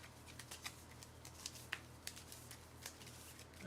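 Playing cards being shuffled at a tabletop card game, with a run of soft riffles and sharp flicks at uneven intervals, fairly close and quiet, and no talking.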